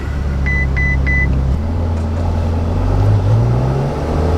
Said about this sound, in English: Now that stopped beeping.